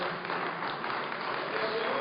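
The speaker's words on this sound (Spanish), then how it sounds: "Denle ese fuerte aplauso al Señor." A church congregation gives a strong round of applause to the Lord during a worship service, a steady, muffled wash of clapping with voices mixed in.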